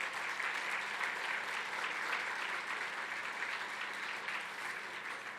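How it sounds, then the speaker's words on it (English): An audience at a regional business event claps for the sponsoring builders' and industrial associations, a steady even round of applause heard from a slight distance at moderate volume throughout. "A round of applause for bringing all of us together."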